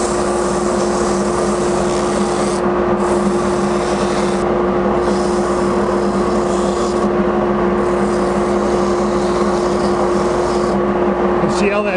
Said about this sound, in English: Now when you're sanding, make sure you keep your fingers away from here because we know those corners are swinging